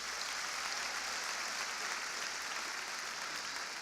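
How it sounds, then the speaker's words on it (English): Faint, distant applause for a choir at the National Urban League's 2017 State of the Urban League Address, a soft, steady hiss of many hands clapping throughout. "let's give them a round of applause."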